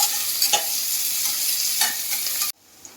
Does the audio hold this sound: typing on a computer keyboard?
no